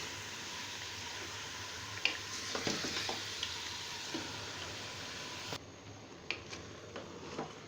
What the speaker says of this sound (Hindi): और अब हम इसको अच्छी तरह से भून लेंगे।